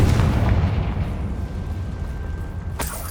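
A Confringo explosion spell in the video game Hogwarts Legacy bursts with a loud, deep rumbling blast that decays over about two seconds, followed by a brief sharp crack.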